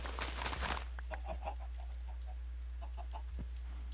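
Minecraft chickens clucking in short, soft, scattered bursts, several separate clucks spread across the moment over a quiet steady background hum, with no one talking.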